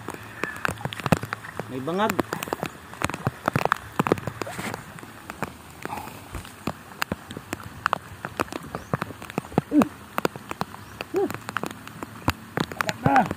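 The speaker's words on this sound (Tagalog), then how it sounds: "Eh, lakas ang ulan" Steady heavy rain patters throughout, with people talking loudly over it during an outdoor crab catch-and-cook trip.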